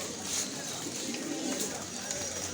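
Pigeons cooing at a busy open-air pigeon market in Mirpur-1, Dhaka, soft low coos under a dense hum of crowd chatter and market noise.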